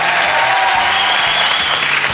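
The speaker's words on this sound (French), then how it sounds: "On applaudit les Verts" A studio audience on a French-language talk show applauds, a loud continuous roar of clapping with a faint musical tone underneath.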